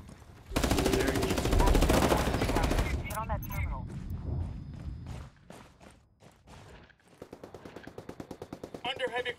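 Machine gun fire in Ghost Recon Wildlands: a loud, dense sustained volley first, then scattered bursts and a rapid rhythmic string of shots at the end, with voices talking over the firing.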